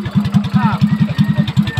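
Motorcycle engine running close by with a fast, regular putter at idle or low revs, loud and rhythmic throughout, with faint background voices and sounds.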